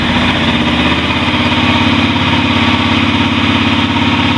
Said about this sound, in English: but then if we go ahead and start the bike